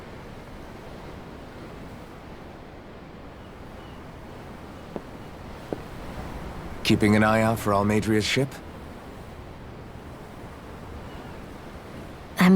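Ocean waves in Tales of Arise wash in a steady, low surf with wind noise, heard from aboard a ship, with a brief stretch of talking midway.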